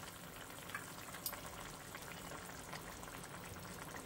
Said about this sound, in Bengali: ঝোল ফুটে উঠেছে, এবার দিয়ে দিলাম ভাজা মাছগুলো।